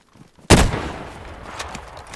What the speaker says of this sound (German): Noch mehr Schüsse?